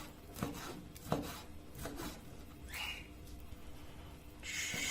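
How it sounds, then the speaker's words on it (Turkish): A knife chops through meat and heart on a board in a few uneven strikes, near and moderately loud, with some rubbing and scraping between cuts. "güzel güzel doğrayalım ki rondo parçalarken zorlanmasın"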